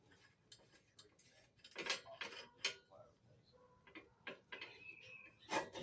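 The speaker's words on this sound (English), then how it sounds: "All I need to do now is just take that bolt out." Faint ticking and clicking of a ratchet and metal parts as a very long bolt is worked out of a four-wheeler during a diesel engine swap, irregular close taps and rattles in a quiet shop.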